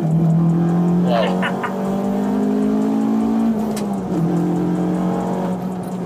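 A Honda Civic Type R engine holds a high, steady rev close by, with a couple of brief crackling pops as the throttle eases and the pitch drops, while someone talks over it.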